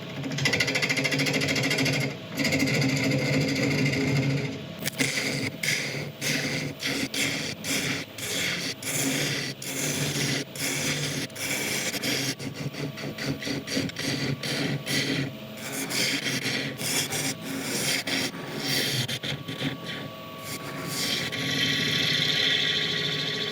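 Yew wood spinning on a lathe with a steady rest holding it while a small bowl is cut into its end, giving a loud continuous rough cutting and scraping noise with rapid chattering pulses throughout.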